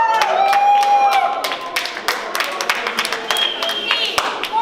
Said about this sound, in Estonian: Aplaus palun!